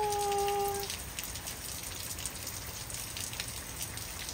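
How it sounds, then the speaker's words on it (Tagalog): Morning rain falls in Willcox, Arizona, a steady soft patter of drops on surfaces, nearby and fairly quiet, with a brief tone at the start. "It's raining!"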